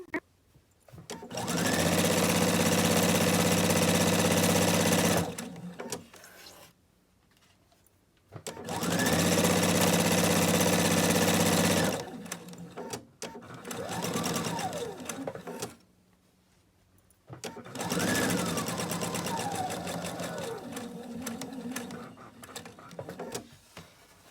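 Sewing machine stitching cloth napkins, running in three long loud bursts separated by pauses, with softer mechanical whirring between runs and no talk.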